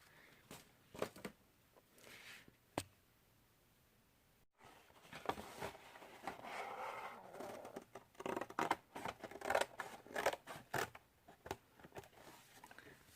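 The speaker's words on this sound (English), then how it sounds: "you're going to cut both of those rectangles out, right here and right here" Scissors cutting paper rectangles out for a handmade art and nature journal: quiet, close snips and rustling paper, irregular and scattered, with no voices.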